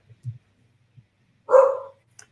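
A single short bark from a pet dog indoors, preceded by faint low thumps and followed by a tiny click, otherwise quiet.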